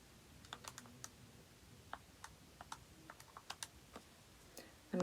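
Calculator buttons are pressed in a quick irregular series of faint, close clicks over a quiet room, with no talking.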